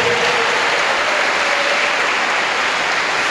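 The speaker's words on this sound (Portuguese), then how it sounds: "Quem quer aplaude o Senhor?" Church congregation clapping during a teaching service, a loud, dense, continuous wash of hands that stays even throughout, close and full, with a faint sustained voice or tone briefly audible beneath it.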